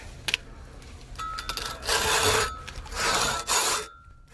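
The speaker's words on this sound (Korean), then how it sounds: "우직한 톱질" A few strokes of a hand saw rasping through wood, near and moderately loud, with short pauses between bursts of cutting.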